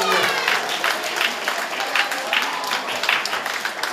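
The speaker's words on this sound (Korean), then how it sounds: "자, 박수 시작!" Applause from the audience at a school Christmas service, a steady, dense patter of many hands clapping indoors throughout, fairly close and continuous.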